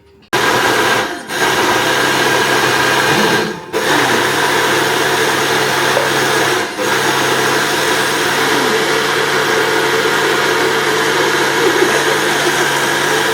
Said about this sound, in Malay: jom kita blend